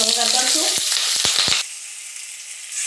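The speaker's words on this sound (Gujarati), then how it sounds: "મરચાંનો વઘાર કરશું" Green chillies are added to hot oil already tempered with mustard seeds, cumin and asafoetida for a Gujarati chilli sambharo. They set off a loud, close sizzle with a few sharp crackles, followed by a steady, quieter frying hiss.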